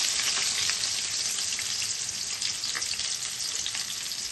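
Green chili and onion pieces fry in a pan, giving a dense and even sizzle with faint crackles throughout. The sound is close and steady, and no one talks.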